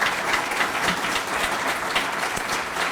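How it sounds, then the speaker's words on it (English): An audience applauds Darnell at a talk, a dense, steady wash of clapping that holds evenly throughout with no voices. "Let's give Darnell a round of applause."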